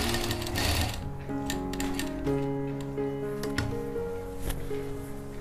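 A sewing machine stitches a jacket (koti) with a steady, close whirring hum and rhythmic needle ticking that runs without pause, with no voices.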